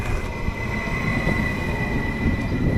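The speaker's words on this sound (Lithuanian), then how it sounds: "Pirmas traukinys, pirmas traukinys į sostinę." A Swedish train bound for the capital rumbles steadily and loudly up close, with a constant tonal hum and faint wheel squeal running throughout and no talk.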